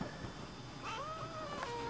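Young farm cat meowing close by, two drawn-out rising-falling mews over a steady low background hum, no talking.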